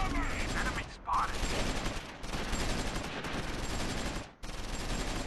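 Sustained machine gun fire in a Close Combat IV battle, dense rapid bursts rolling on with brief gaps, steady and fairly loud against a busy wartime street fight with no voices.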